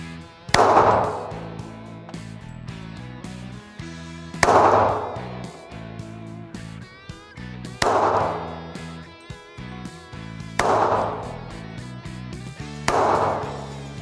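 Guns fired outdoors at a range, with five loud sharp reports spaced a few seconds apart, each followed by a short ringing decay.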